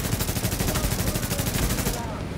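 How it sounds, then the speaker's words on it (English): Rapid automatic gunfire from a firefight in Tom Clancy's The Division, loud and continuous with fast, evenly spaced shots that cut off abruptly near the end. "They keep shooting."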